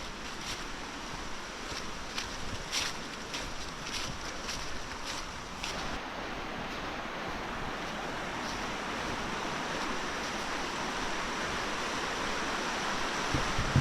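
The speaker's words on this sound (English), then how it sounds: "As ever, I love that sound of running water." The River Okement on the edge of Dartmoor rushes continuously, hissing evenly throughout, a broad steady wash with faint ticking and splashes in the first half.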